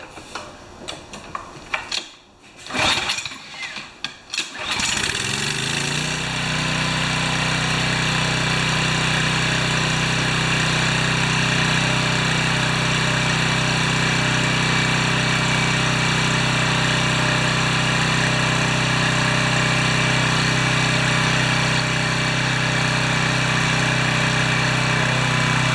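A Briggs and Stratton 7HP pressure washer engine with an automatic choke cranks in a few rough, uneven bursts, then catches and settles into a steady, loud, close idle that runs on unbroken.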